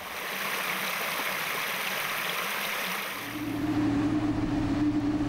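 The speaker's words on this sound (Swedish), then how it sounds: "Här gjorde man istället då de här inloppstrapporna i kullersten så att man får en syresättning av vattnet" Water flowing down cobblestone inlet steps built to oxygenate a water supply, a steady close rushing and gurgling stream that swells slightly louder toward the end.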